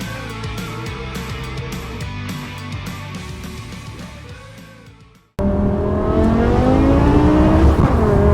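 A BMW M6 with a V10 and F1-style exhaust revs hard, a loud high-pitched wail rising and falling; after a brief cut it screams louder and closer, climbing through sharp revs.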